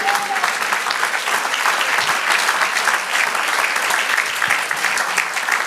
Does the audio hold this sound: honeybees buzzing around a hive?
no